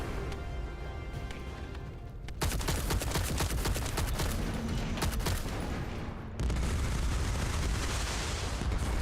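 Rapid, sustained gunfire from a video game shooter, dense bursts of automatic fire filling most of the stretch with a brief lull near the start, loud and continuous.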